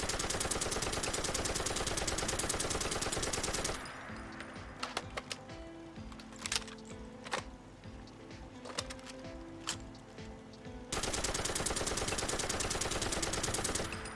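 Bursts of M60 light machine gun fire from a modded Fallout 4 video game, loud sustained automatic fire at the start and end, with scattered shorter shots and clicks in a quieter middle stretch.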